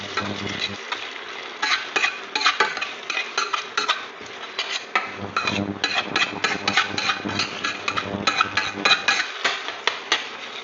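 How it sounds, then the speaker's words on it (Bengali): Ginger garlic masala stir-fried over low to medium heat for a prawn curry, heard as busy metallic clinks and scrapes of a spoon against the pan over a light sizzle, close up and irregular. "মশলাটা লো টু মিডিয়াম ফ্লেমে ভালো করে কষাতে হবে"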